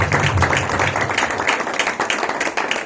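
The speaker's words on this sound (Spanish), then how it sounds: "¿Por qué no le damos un fuerte aplauso a nuestro Dios" A church congregation at an anniversary service applauds together, a dense, steady wash of many hands clapping that holds loud for the whole stretch.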